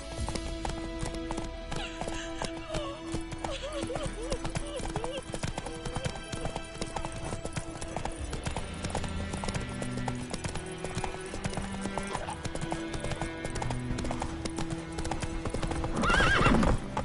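A horse gallops with rhythmic hoofbeats and whinnies in The Witcher 3: Wild Hunt, with game music and a voice talking over the steady clip-clop.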